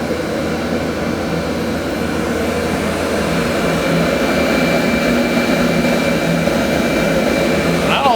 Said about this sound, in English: please note, the blower never slowed down